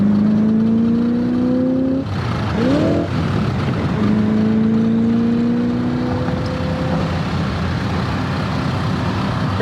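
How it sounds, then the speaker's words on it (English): A 1968 Corvette drives down the road, its engine note loud and steady with a brief pitch sweep partway through like a gear change, under constant road and wind noise. "Here's how it goes down the road."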